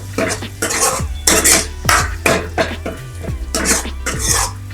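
A ladle scrapes and clanks loudly and rhythmically against a pot while stirring fried masala for a spicy Kolhapuri-style shev bhaji curry after a splash of water, with soft bubbling between strokes.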